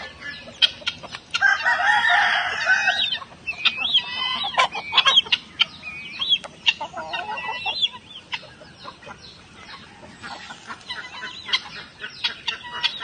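Native farm chickens at feeding time cluck and squawk close by, with a rooster crowing near the start and sharp bursts of fowl calls continuing throughout, with no speech over them.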